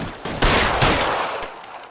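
Gunfire in the video game L.A. Noire, a loud, close volley of rapid shots running together in a dense burst that slowly fades, with no talk.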